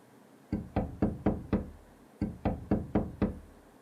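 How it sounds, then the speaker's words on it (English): Heavy banging on a door in two bursts of five blows each, loud, close and urgent, with a short pause between bursts and no voices. "I heard someone banging on my door."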